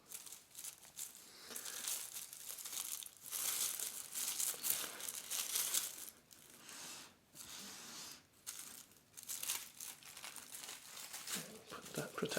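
Protective paper crinkles and rustles continuously as it is pulled away while unboxing an Excelvan rectangular double automatic watch winder, with loud, close crackling bursts throughout and no talking.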